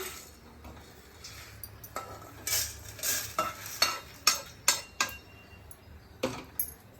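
Mushrooms frying in a pan, a quiet sizzle under a run of sharp utensil clinks and scrapes that come faster toward the middle, with no talking.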